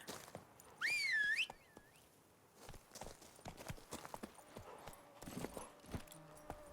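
In The Witcher 3 video game, a rising two-note whistle summons a horse, followed by a steady clip-clop of hooves approaching and trotting at moderate volume, with no talk.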